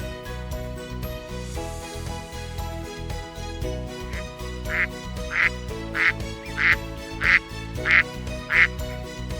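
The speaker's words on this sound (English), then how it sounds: "The mallard is a common waterfowl species found in various wetland habitats" A mallard duck quacks in a steady series of about seven evenly spaced calls that grow slightly louder, heard over a continuous music bed.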